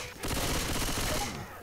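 Rapid automatic gunfire from the video game Left 4 Dead 2, a dense, loud burst of shots lasting over a second with no break.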